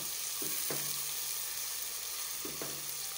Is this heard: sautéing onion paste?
yes